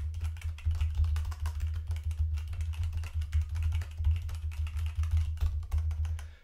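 Rapid, continuous clatter of keys on a mechanical keyboard, close and fairly loud, with a steady busy rhythm and no voices.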